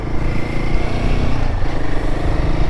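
A loud Royal Enfield Himalayan 450 motorcycle engine rumbling steadily, close up, with a constant low droning tone and no speech.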